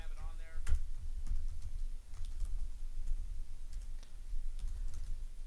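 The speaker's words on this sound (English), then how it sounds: "I'm going to type this real quick for you guys." Typing on a computer keyboard during a live sports-picks show, with quick irregular key clicks in short bursts, close and clear, while a person talks over the clatter.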